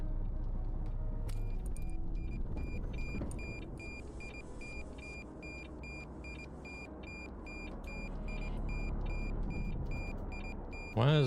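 In a modded driving video game, a truck gives a steady, repeating electronic beep over a continuous low engine rumble throughout.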